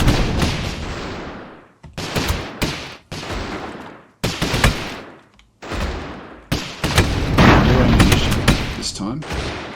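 Bombs detonate in repeated heavy bursts in the airship battle game Airships: Conquer the Skies, each booming blast decaying before the next, growing denser and louder toward the end.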